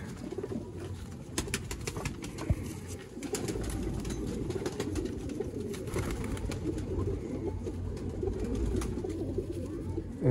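Teddy pigeons cooing in a loft, soft low murmuring coos layered continuously from several birds nearby, with occasional rustling and faint clicks.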